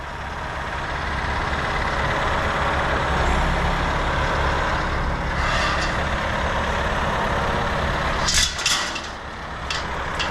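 A new tractor unit's engine idles with a steady low rumble heard from close by, joined near the end by a brief hiss of released air.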